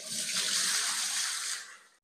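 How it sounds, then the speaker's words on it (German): Water pours into a large bucket during floor-leveling prep for electric underfloor heating, a short splashing gush that builds quickly, holds for about a second and a half, then tapers off. "Ein bisschen Wasser in einen großen Kübel rein."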